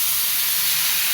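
Water hits ground spices in a hot pan, throwing up a loud, continuous steam hiss and sizzle that fills the whole brief moment without pause.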